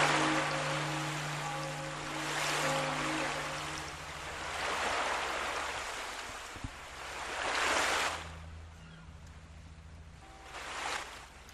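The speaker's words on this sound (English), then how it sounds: "we don't have to hear the noise of the waves crashing into my ears" Ocean waves crash and surge in the Tropico 3 island game, loud rolling washes of surf swelling and receding in slow cycles, with a faint low game hum beneath and no talk.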